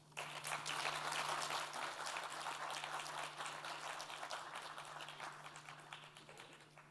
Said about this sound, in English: Let's give Mr. Yasuo Takamura another round of applause, please.